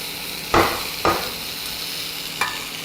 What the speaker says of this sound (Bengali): ভাজা হয়ে গেছে, এবার সব সবজিগুলো এর মধ্যে দিয়ে দিলাম।